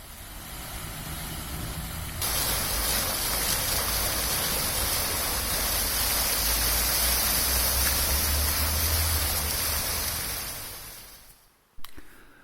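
Water from a city square fountain in Sosnowiec splashes in a steady, broad rushing wash, close and continuous, with a low rumble of traffic underneath before it fades near the end.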